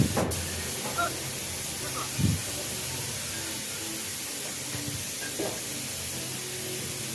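Steady spray-gun hiss fills the air as Honda PCX160 motorcycle fairings are spray painted, a continuous even wash of airy noise with a few faint thumps and distant voices underneath.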